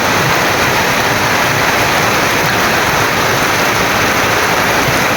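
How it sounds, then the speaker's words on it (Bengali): Heavy rain falls steadily, a loud, dense, continuous roar of downpour without any break or other sound. "অনেক বৃষ্টি হচ্ছে আপনারা দেখতে পাচ্ছেন বৃষ্টি থামার কোনো ই দেখতে পাচ্ছি না"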